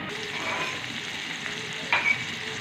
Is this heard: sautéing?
yes